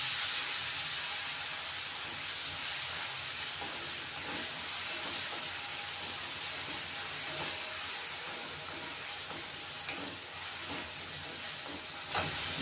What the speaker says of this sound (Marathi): आता चांगलं परतून घेणार आहे त्याला।